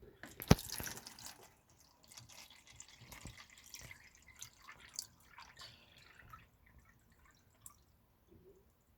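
Water dripping and spilling from an overfull container being brought level for weighing in a physics experiment, a cluster of wet drips early on, then scattered small drips and trickles that fade out.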